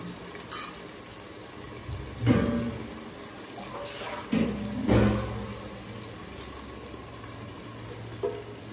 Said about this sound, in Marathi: आपण याच्यावरती ओतणार आहोत थोडंसं पाणी.